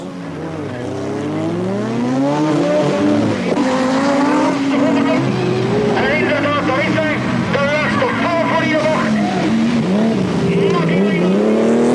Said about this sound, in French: premier tour, la surpuissante Porsche de Alameki impose un train d'enfer à la course